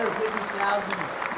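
A steady wash of applause and crowd noise runs through the whole moment, with a voice talking over it during a live online quiz show.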